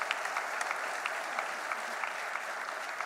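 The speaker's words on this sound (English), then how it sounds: "Please give them a big hand." An audience at a PBD Convention 2017 plenary session claps loudly and continuously. The applause is dense and even, with no voices over it.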